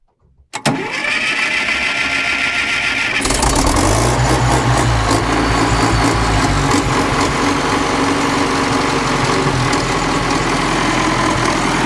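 Combine harvester engine with a newly replaced crankshaft cranking briefly, then catching and running loudly and steadily at idle, a dense rough rumble close by that continues for about nine seconds.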